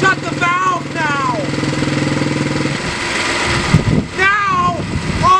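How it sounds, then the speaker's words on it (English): A loud engine runs steadily with a rough, pulsing exhaust rumble while a person talks over it; the note shifts as the exhaust is diverted through a CO2-capturing muffler. "Now, all the exhaust is going through my CO2 muffler."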